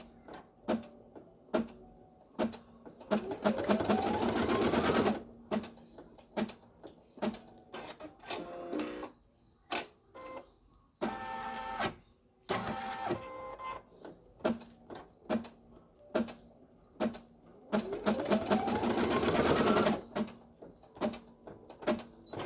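Embroidery machine stitching strap placement on an in-the-hoop snap-on hand sanitizer holder, with bursts of rapid mechanical stitching chatter between clicks and pauses, close and fairly loud, no talking.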